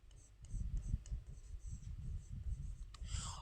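Pen writing by hand on paper, a soft continuous scratching with brief strokes and pauses, close and steady, with a faint higher scrape near the end and no talk.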